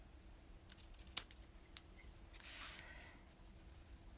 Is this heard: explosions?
no